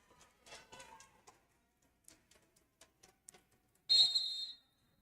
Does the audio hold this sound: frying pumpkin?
no